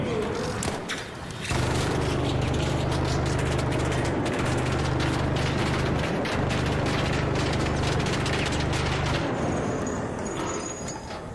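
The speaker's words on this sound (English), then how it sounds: "Who's shooting me?" Sustained gunfire in the video game Escape From Tarkov, a dense unbroken stream of shots holding loud and steady for about ten seconds after a short quiet start, with a low engine-like drone underneath.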